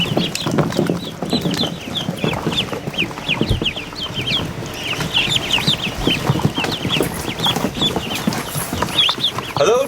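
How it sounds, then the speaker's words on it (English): Hungry ducklings in a brooder give a continuous chorus of high peeps and chirps, nearby and busy, layered over soft shuffling. "Oh, little ducks."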